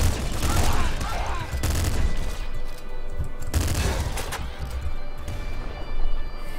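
Rapid bursts of gunfire and explosive blasts from the video game Nuclear Throne, including a grenade shotgun, dense and continuous with loud cracks.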